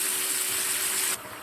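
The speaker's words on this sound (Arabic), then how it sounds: "هنزل بالشوربه السخنه عندي" Hot broth pours steadily into toasted orzo pasta in a pan, a close, continuous hissing gush that stops abruptly near the end and leaves a softer sizzle behind.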